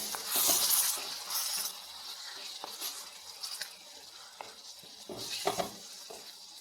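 Bitter gourd simmering with tamarind water in a pan, stirred with soft scraping and bubbly sizzle at moderate, uneven loudness, a few sharper utensil taps near the end.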